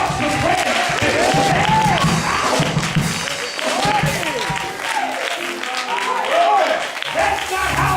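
Church congregation on Resurrection Sunday clapping and cheering in a loud, sustained burst that fills the room, with voices calling out and talking over the applause throughout.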